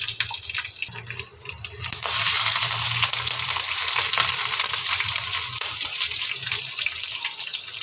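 Chana dal, dried red chillies, garlic and curry leaves fry in a pan with a loud, dense sizzle that swells sharply after a couple of seconds and stays strong, crackling close up.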